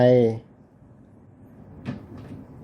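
A Samsung microwave door shuts with a single short, sharp click, heard up close after a brief burst of speech and a quiet pause, followed by a faint second tap.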